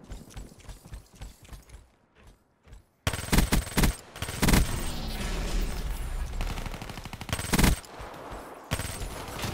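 Rapid automatic gunfire in a Black Ops 3 Hardpoint multiplayer match bursts in loud and close after a quieter start, then rattles on almost without a break, with a few short gaps.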